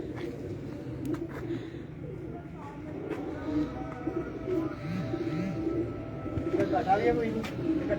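Fancy flying pigeons coo in a loft, soft rolling throaty calls repeating close by over a low background, with someone talking at the same time.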